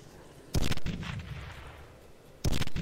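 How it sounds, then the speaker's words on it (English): Bomb blasts in the video game Teleglitch, two loud, booming explosions about two seconds apart, each a sharp burst followed by a rumbling tail. "I'll just use a bomb."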